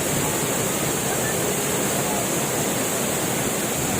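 Pulangbato Falls in Valencia, Negros Oriental, pours with a dense, constant roar of falling water, heard close and steady throughout.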